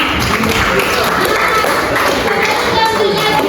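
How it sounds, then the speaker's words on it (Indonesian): High-school students in a classroom clap their hands together in a noisy, fairly close burst, mixed with crowd chatter and some shouting voices. "tepuk tangan dulu"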